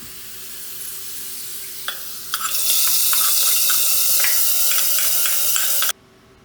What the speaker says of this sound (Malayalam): ഇനിയിപ്പോൾ വെളിച്ചെണ്ണയിൽ ചെറിയ ഉള്ളി വഴറ്റിയിടാം